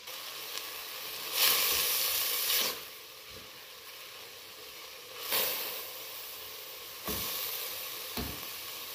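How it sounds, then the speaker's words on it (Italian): Black cabbage fries with soffritto in a pot over high heat, giving a steady sizzle and hiss that swells in bursts as it is stirred. "lasciamo andare il cavolo con il soffritto per 2"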